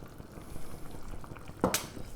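A mix of corn flour and water is poured into a bubbling chicken casserole, with gentle simmering under a brief splash near the end.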